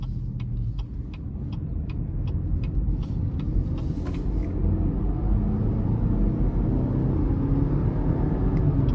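Inside a 2022 GMC Terrain AT4 driving in all-wheel drive mode, a steady low road rumble and engine drone fill the cabin, with a run of faint ticks early on.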